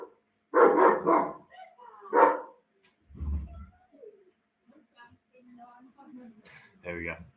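A dog gives a couple of loud, close barks, then a lower grunt and a few softer yelps, with someone talking briefly between the sounds.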